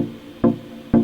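Two short synth plucks from a square-wave oscillator in Serum, hollow and buzzy, each struck cleanly and decaying fast over a low hum, spaced about half a second apart.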